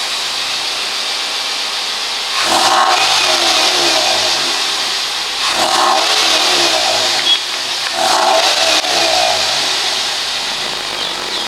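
A car engine idles loudly and close during idle speed adjustment, then revs up three times, each rev swelling for about two seconds before dropping back to a steady idle.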